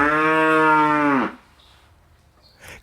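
A single cow moos loud and close for about a second, a long harmonic low call that cuts off into faint background quiet.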